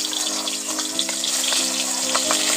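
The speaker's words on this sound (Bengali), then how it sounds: "এবার ওই তেলের মধ্যে অল্প করে কাঁঠাল আর আলুগুলো দিয়ে দিচ্ছি" Jackfruit and potato pieces fry in hot mustard oil in a pan, giving a dense, steady close sizzle and crackle with no voices.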